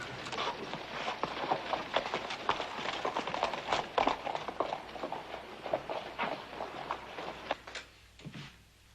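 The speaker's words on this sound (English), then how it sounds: "Take the horses over to the livery stable." Horse hooves clip-clop in a steady, uneven rhythm at close range, several animals walking on hard ground, fading slightly toward the end.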